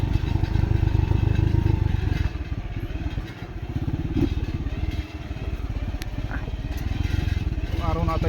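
A motorcycle climbs a rough mountain trail on Mount Banahaw, its engine loud and close with a pulsing chug that dips and surges as the rider works uphill, joined by clattering and scraping over the terrain.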